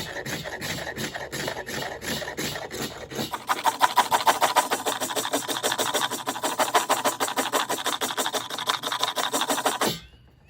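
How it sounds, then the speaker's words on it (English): A rough tool scrapes white oak wood in rapid, rhythmic strokes, close and loud, speeding into a dense continuous rasping before stopping abruptly. "Let's see if we can get some scrapings off of this white oak."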